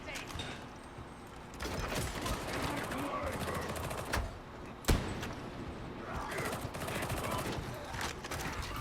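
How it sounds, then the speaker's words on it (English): A Ripper gun fires in Darktide during Ogryn combat, bursts of heavy gunfire and mechanical clatter under a voice, with a sharp loud bang near the middle. "Is it a Ripper gun? I'm gonna assume it's a Ripper gun."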